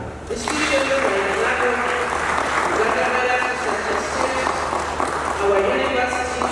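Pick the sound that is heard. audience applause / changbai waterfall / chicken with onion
audience applause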